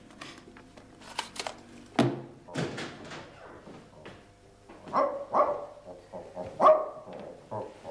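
A small dog barks repeatedly in sharp, uneven bursts, fairly close, with a knock or door-like thud early on.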